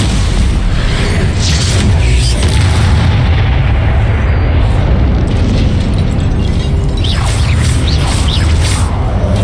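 Magical spell blasts from the Confringo fire spell in the video game Hogwarts Legacy, repeated heavy booms and bursts layered with combat effects, loud and continuous with no talk.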